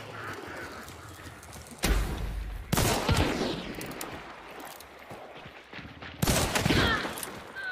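Video game gunfire rings out in bursts of loud shots, several sharp volleys near the start and middle and again toward the end, over a constant layer of game noise.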